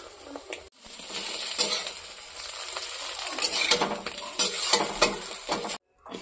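Chopped onion and green chili frying in a little oil in a pan, a steady close sizzle with intermittent scraping and stirring strokes, a brief pause near the start and the sound cutting out just before the end.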